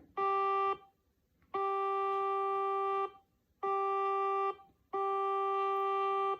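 Four sustained pure electronic tones play one after another with short silences between, the pitches nearly identical, one a tiny bit lower.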